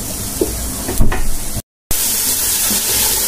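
Ginger and garlic spice paste sizzling in hot oil while frying for beef khichuri, a steady broadband hiss running throughout at close range, with a short louder burst of spatter near the start.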